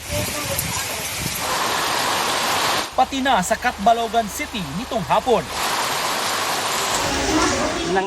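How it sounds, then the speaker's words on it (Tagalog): Dense, hissing rain and wind from Typhoon Verbena in Giwan, Eastern Samar roar loudly, broken midway by a stretch of a person speaking before the downpour noise returns. "Malakas na ulan at hangin ang pinamalas ng bagyong Verbena"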